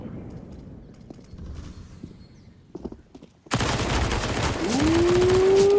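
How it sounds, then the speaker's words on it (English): Submachine gun fire in a first-person shooter match, a sudden dense burst of rapid shots that starts midway after quieter scattered game sounds and keeps going loud to the end, with a rising whine layered over the final seconds. "that SMG's doing some work, winning the first battle"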